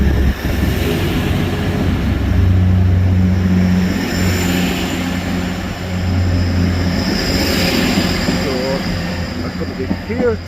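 A Class 180 diesel passenger train, the Sunderland to Kings Cross service, runs through Thirsk station with a loud sustained engine drone and rolling rumble building and easing over several seconds, with no talk.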